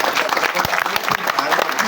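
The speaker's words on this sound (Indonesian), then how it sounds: "Tepuk tangan sedoyo" Audience applause at an Indonesian meeting about fertilizer allocation, a dense, steady wash of clapping that fills the short moment with voices mixed in.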